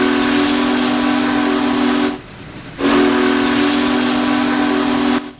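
Big Boy steam locomotive whistle in the Train Sim Classic game, a loud sustained tonal blast cut by a brief pause, then a second long blast that stops abruptly.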